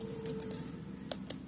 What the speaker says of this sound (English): Stop typing that I don't want you to type.